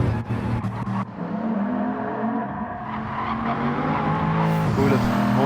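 Race cars in a racing video game driving through the Eau Rouge corner at Spa: steady loud engine drone with a squealing, skidding tone and a rising pitch toward the end, close and continuous.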